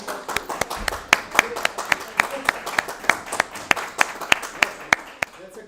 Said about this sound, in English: I think we should clap in the morning.